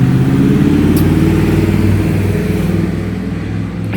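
A loud truck drives past outdoors, its engine droning with a steady low rumble that stays strong before easing off slightly toward the end, with no talking over it.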